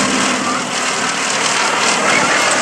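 Westland Lysander's piston engine drones loud and steady as the aircraft flies past at an airshow, a continuous broadband roar with wind rumble.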